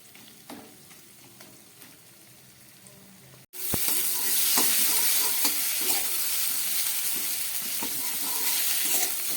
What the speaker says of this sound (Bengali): একদম কম আঁচ দিয়ে মশলাটাকে ভেজে নিতে হবে